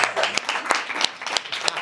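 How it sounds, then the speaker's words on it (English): A small group claps in a loose, uneven rhythm, with distinct individual hand claps landing every third of a second or so at moderate volume. "Yeah, let's clap it up"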